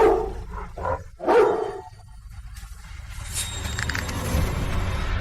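A dog barks several times in quick, loud bursts at close range, followed by a steady background rumble.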